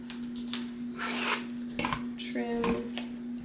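Fabric on a T-shirt quilt is trimmed along a ruler, making dry rasping cuts and scrapes in short strokes over a steady low hum, close by.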